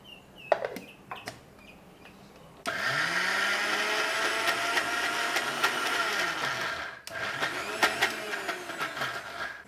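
A kitchen mixer grinder grinds soaked lentils, whirring loudly in two bursts with a rough, rattling drone and shifting pitch, after a few brief clinks.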